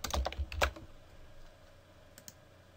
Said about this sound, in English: So I'm just going to type in border equals, and we'll just make a 2-pixel border.